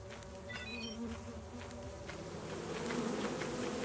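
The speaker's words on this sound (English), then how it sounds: "Not the bees! Those bees are persistent" Swarm of bees buzzing in the video game Lethal Company, a steady, dense droning hum that holds throughout and grows slightly louder toward the end, with faint chirpy electronic blips early on.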